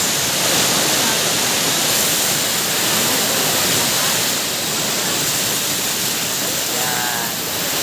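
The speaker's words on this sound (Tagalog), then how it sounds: "Ayan ang falls." The falls at Villa Escudero in San Pablo City, Laguna, roar as a loud, steady, broadband rush of water, continuous and close throughout.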